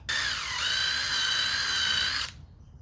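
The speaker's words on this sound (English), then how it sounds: "drill out these holes with a 5/16 drill bit all the way through" A power drill with a 5/16 bit whines steadily at high pitch for about two seconds, drilling through holes for splash guards on a Ram 2500 Cummins truck, its tone dipping briefly as the bit bites, then stops abruptly.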